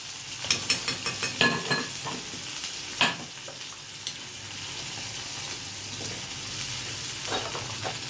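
Garlic is tempered in hot oil with red chillies, giving a steady close sizzle, with a quick run of sharp clinks and scrapes from a spoon early on and a few more later.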